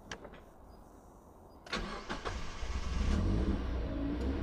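A Mazda MX-5 engine with a newly replaced alternator cranks briefly, catches, and settles into a steady, close idle rumble.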